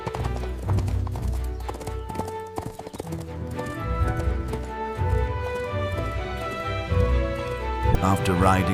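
Steady clip-clop of hooves as a princess rides her horse, a rhythmic trotting beat running throughout beneath a narrating voice and a soft musical backing.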